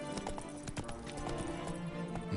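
A horse gallops in The Witcher 3: Blood and Wine, with rapid, close hoof clip-clops in a steady rhythm over a game soundtrack.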